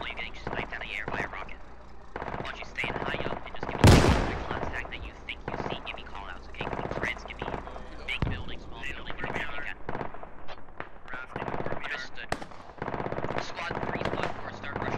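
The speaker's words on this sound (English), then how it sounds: "I think they're shooting building to building here" Gunfire in the video game Squad, with squads shooting building to building: dense, rapid automatic bursts crackle continuously, punctuated by one heavy blast, as voices talk over the firefight.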